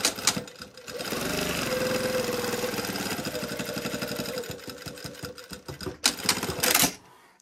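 A sewing machine stitches zipper tape into a pair of pants at a 2.5 stitch length, a close, quick mechanical whir that slows into distinct individual stitches, then stops with a few clicks.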